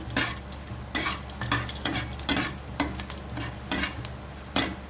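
Something roasting and puffing up in ghee in a pan, a close sizzle punctuated by regular scraping and tapping stirs about once a second, with no one speaking.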